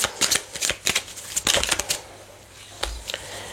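Cards are shuffled for a card reading, with a run of quick close riffles and flicks, a short pause, then a few more soft shuffles.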